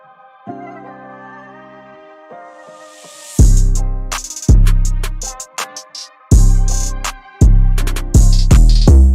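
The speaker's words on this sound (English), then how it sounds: "this Cody sound effect, and it just lets the beat drop harder" A rising riser swell builds over soft dark piano and synth notes, then heavy punchy beats drop in with hard bass hits and crisp percussion, loud and rhythmic.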